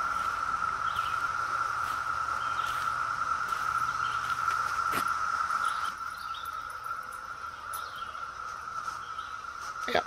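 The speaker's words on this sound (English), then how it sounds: "And on top of that, we got cicada noise." Cicadas drone in a steady, loud, high buzz along a wooded walking trail in Lancaster County, Pennsylvania, continuing without pause and dropping slightly in level partway through.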